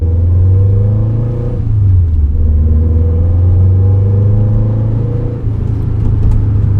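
Modified Subaru STI with adjustable coilovers set soft, heard from inside while driving on a road: a loud, continuous low engine drone with gentle pitch swells and dips, no voices.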